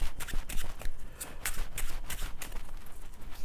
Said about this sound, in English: I want you to take those cards and shuffle.